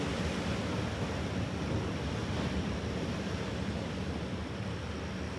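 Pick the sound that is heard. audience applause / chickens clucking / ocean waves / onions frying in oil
ocean waves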